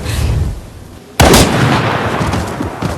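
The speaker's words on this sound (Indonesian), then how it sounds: "Hinako justru menembak si Utsubo karena sudah capek jadi korban pemuas birahinya" A single loud, sharp gunshot from a hitman film being watched, cutting in suddenly about a second in after a quieter moment and followed by a lingering echoing tail.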